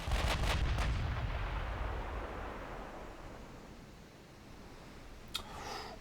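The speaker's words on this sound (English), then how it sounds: "Main guns on the battleship, please." A battleship's main guns fire in a naval warfare game during a Spanish dreadnought campaign, a heavy deep boom rolling out and fading over several seconds, with a sharp crack of a further shot near the end.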